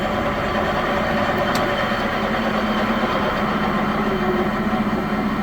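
A large Heyligenstaedt 400A/30 lathe, 32 by 222 inches, runs at 112 RPM, giving a steady, loud machine drone with a faint tonal hum and no break.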